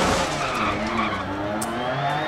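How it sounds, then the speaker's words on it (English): Rally car in the Dirt Rally video game understeering and skidding, a continuous loud tire-scrub roar with engine drone running throughout, steady and close with no talk. "the car just understeers really hard"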